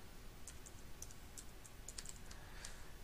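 A master password is typed on a computer keyboard: a quick, uneven run of about a dozen light key clicks, faint and close, with no voices.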